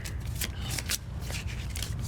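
Cards from a Pandemic Legacy Season 2 board game deck being shuffled up close, a continuous run of riffling and flicking bursts in quick irregular rhythm, with no talking over it.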